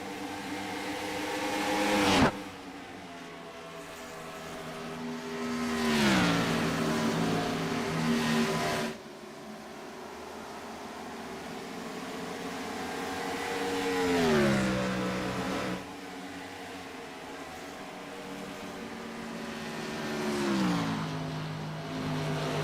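IROC race cars at Kentucky roar past one after another. Each engine note climbs and then drops sharply as the car goes by, at loud to moderate level, with a few seconds between passes and no talk.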